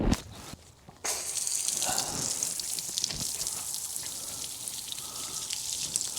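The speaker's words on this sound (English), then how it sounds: "I'm not wiping it off, I'm spraying it off" Water sprays hard onto the tires of a Ford Raptor truck, a steady loud hiss with spattering after a short sputter and pause at the start.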